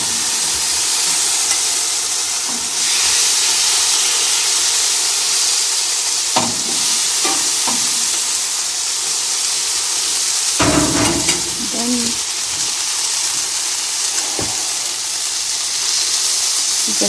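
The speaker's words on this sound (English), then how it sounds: "So just throw the prawns on the Barbie." Prawns cooking on a barbecue grill over medium heat produce a loud, continuous sizzling hiss with occasional pops and scraping clatters as they are handled.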